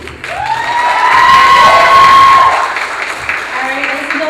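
Audience at a Mrs. Oregon America pageant stage competition applauds and cheers, a loud sustained swell of clapping and voices that peaks midway then tapers, with a rising whistle-like cry across it.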